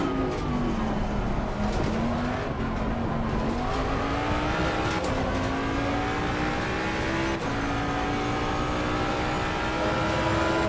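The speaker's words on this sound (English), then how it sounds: "To me, it almost sounds like a NASCAR engine." Ford Mustang engine in Assetto Corsa, a continuous racing engine drone whose pitch slowly climbs and settles across several gear pulls, loud and steady with no talk.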